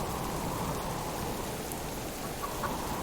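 Steady rain in the survival game Subsistence, a dense, even hiss of falling drops that fills the whole clip at constant loudness, with no talk.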